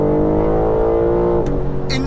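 A twin-turbo 510 bhp BMW M4 Competition accelerating hard on kick-down, engine note loud and rising steadily from inside the cabin, with a brief gearshift dip near the end; no talk.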